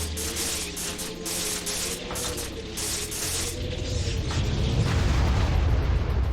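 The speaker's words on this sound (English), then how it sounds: "There's an explosion there." An explosion rumbles during an Age of Mythology battle, a dense roar that swells and grows louder toward the end, with crackling mechanical clatter over it.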